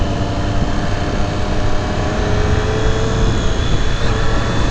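A 2018 Triumph Street Triple RS three-cylinder motorcycle accelerating hard through quick-shifter gear changes, a loud, continuous engine roar heard close up with wind rush.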